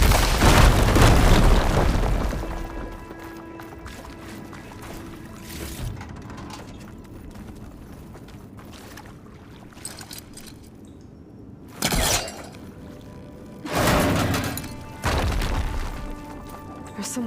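A fire gleam exploding in the video game Horizon Forbidden West: a loud, deep blast at the start fades into a low rumble, then several shorter heavy bursts and crashes follow near the end.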